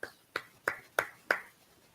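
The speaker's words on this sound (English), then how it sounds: "Let's clap it up for the Most High" Five sharp, evenly spaced claps ring out about a third of a second apart, faint and isolated rather than a full crowd, during a Brotherhood class gathering.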